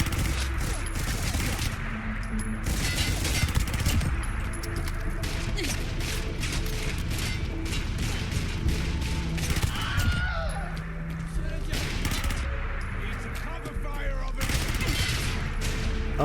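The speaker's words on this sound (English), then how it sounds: "I'm aiming at the target and the gun's just going whenever it wants." Gunfire from a gun in Fallout 4 goes off in repeated, uneven loud bursts over a busy, continuous soundscape, with a voice talking in between.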